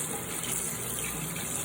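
Water runs into a sink onto Green Cell Foam packaging, making a steady close gushing and splashing like a running faucet, even in level for the whole moment, with no talking.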